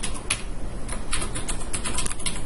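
Rapid clicking of computer keyboard keys, a steady run of close, fairly loud keystrokes with no voices.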